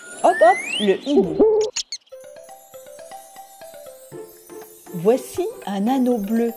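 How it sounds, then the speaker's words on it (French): Cartoon owl hooting in a French children's animation, playful tonal hoots mixed with lively voices and a sustained musical tone, with people talking over parts of it. "le hibou."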